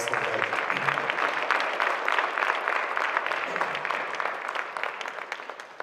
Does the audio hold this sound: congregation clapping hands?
yes